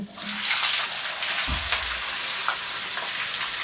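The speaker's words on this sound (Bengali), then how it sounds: "200 গ্রাম পেঁয়াজ কুচানো দিয়ে দিচ্ছি।" About 200 grams of chopped onions go into hot oil with spices, and a dense, continuous frying hiss fills the whole stretch, close and fairly loud, with a soft thud as the onions land.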